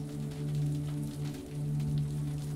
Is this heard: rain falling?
yes